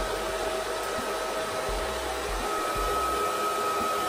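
A hair dryer blows steadily on freshly cut hair, a constant close whooshing hum with a faint high whine that holds at an even level throughout, with no voices.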